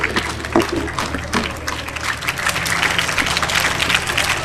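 An audience in a school hall gives a steady round of clapping for the Vice Principal at a speech competition prize ceremony, dense and continuous applause throughout.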